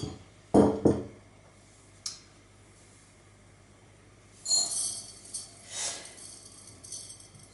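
Soaked buckwheat for gluten-free bread being put into a glass jar: a few sharp clinks and knocks of glass, then softer scraping and shuffling sounds, close and sparse, with no talk.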